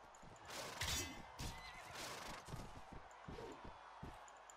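A horse whinnies and snorts in the medieval combat game Mount & Blade: Warband, with loud neighing bursts near the start and hoof clatter and battle noise continuing underneath.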